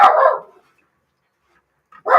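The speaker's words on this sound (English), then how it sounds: "My dog likes barking at my husband." A pet dog barks loudly and close by, one sharp bark at the start followed by silence and another bark at the end, with no talk over it.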